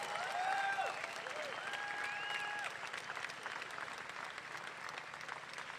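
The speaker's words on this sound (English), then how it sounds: "So give yourself a round of applause." Crowd applause at an outdoor pro-life protest in Sydney, steady clapping throughout with a few whistles or cheers in the first half and no talk over it.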